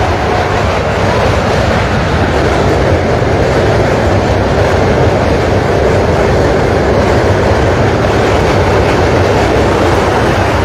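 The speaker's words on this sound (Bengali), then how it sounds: "আমাদের ব্রিজের উপর দিয়ে এখন ট্রেন যাবে একটা, বোধহয় হ্যাঁ ট্রেনই যাচ্ছে একটা" A train rolling across the Hardinge Bridge between Pabna and Kushtia, a loud, dense, continuous rumble and roar of wheels and steel structure heard close and steady throughout, without talk.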